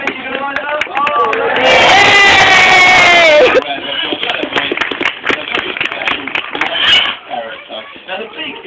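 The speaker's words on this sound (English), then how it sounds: "A little bit more clapping." Applause from a small group rises for a couple of seconds in praise of Bobby, a trained bird, with people chatting over and around it.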